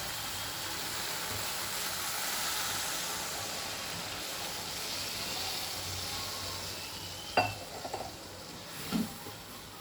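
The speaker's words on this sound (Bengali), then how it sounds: "এবার দিয়ে দেবো জল।" Water poured into a hot pan of stirred potatoes sends up a broad, steady hiss that slowly fades, followed by a couple of light metallic clinks against the pan near the end.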